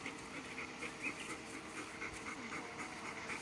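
A guard dog pants quietly in quick, rhythmic breaths, soft and close, with no voices.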